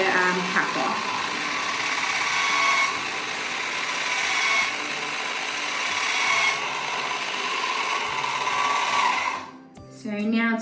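Electric jar opener working on a jar lid, a steady close mechanical whir and grinding hum for about nine seconds, then stopping with a brief click and rattle.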